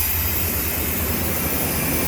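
An old Chevy truck engine runs steadily after starting, a loud, close, continuous roar with a rough low rumble and no talk over it.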